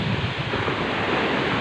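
Sea waves wash onto Colva beach in Goa as a steady, dense roar of surf mixed with wind buffeting the microphone, with no voices over it.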